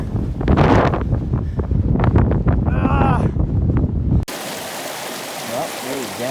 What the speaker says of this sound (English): It's a little bit fucking windy.